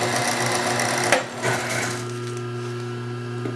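A sewing machine winding a bobbin gives a steady, close mechanical whir with a constant motor hum, a brief clack partway through, then continues evenly and alone.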